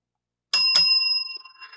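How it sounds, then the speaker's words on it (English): A bell rung twice in quick succession, two bright clear strikes with a sustained ringing tone that fades slowly, alone and close, marking the end of a shift at a tabletop gaming podcast. "Well, that was the double bell."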